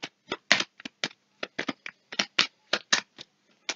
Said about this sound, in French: Je vais recouvrir les 3 dernières cartes.